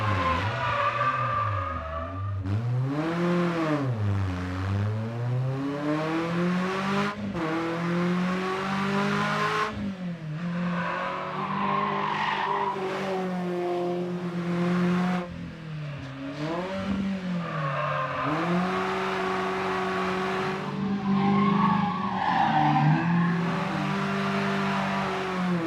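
A Renault Spider Cup sports car engine revs hard and close on a wet track with slick tires, its pitch climbing and dropping through repeated gear changes, with brief tire noise and no voices.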